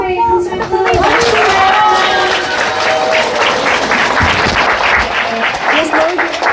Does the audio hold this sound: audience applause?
yes